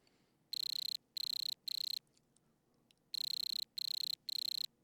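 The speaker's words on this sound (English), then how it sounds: "the sample and hold forces complete cycles of the cricket rubbing its wings" Electronic cricket chirps synthesized in Softube Modular, in two groups of three evenly spaced trills, bright and steady, with a short silence between the groups.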